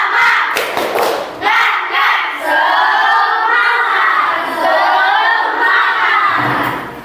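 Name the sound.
class doing the 'tepuk semangat' spirit clap twice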